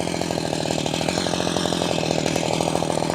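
A chainsaw cuts steadily through wood, its engine droning loud and continuous at close range throughout, with no pause in the whine.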